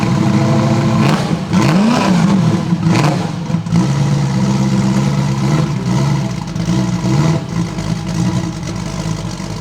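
V8 engine of a 1974 Holden HQ Kingswood revving hard and close, with rising and falling throttle blips over a rumbling idle throughout.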